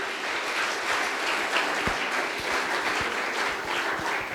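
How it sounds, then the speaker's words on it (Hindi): Audience at a Hindi Diwas poetry event applauds a poet, dense continuous clapping from many hands filling the whole stretch at even loudness. "कृपया तालियों से इनका अभिनंदन करिएगा मित्रों।"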